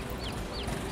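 Chickens from a Farming Simulator mod on the Kolonia map cluck softly in a low, steady stream, with a couple of brief higher calls over a constant background hum and no talk.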